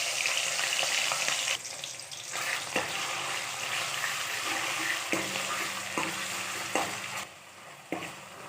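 Mustard seeds, cumin and onion paste frying in oil for a pigeon pea curry, a dense close sizzle with occasional stirring scrapes, briefly quieting near the end.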